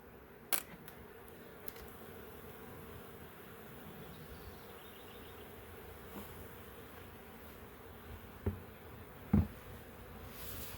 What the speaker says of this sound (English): So I'm gonna give extra smoke to try to get these bees down as much as possible into these lower boxes.